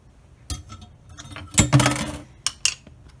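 A spoon clinks and scrapes against a bowl while chopping boiled eggs for keto egg salad, a few scattered close taps and knocks with quiet gaps between them.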